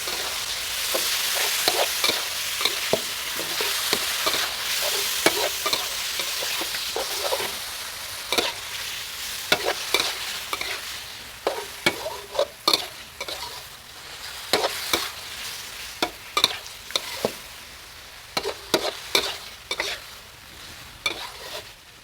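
Pork stir-fried with cucumber in a pan keeps up a steady sizzle, while a utensil scrapes and clicks against the pan in frequent, irregular strokes close by. No one talks.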